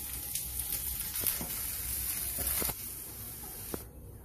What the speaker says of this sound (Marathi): थोडंसं तेल टाकते म्हणजे लवकर भाजून घेतले।